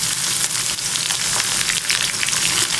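Dried shrimp sizzle and spit steadily in hot oil in a pan, a dense, continuous crackling fry with small pops throughout and no talking.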